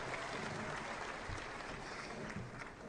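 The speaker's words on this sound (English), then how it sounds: "Another big round of applause for the drama group." A seated audience at the Bank of Zambia's currency launch event gives a drama group a sustained round of applause, an even wash of many hands clapping at moderate distance, with no speech over it.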